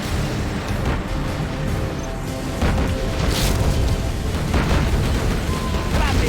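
Explosions and rumbling blasts from a burning attack in Command & Conquer Generals, a dense continuous roar of booms and crackling fire with brief voice lines of unit chatter mixed in.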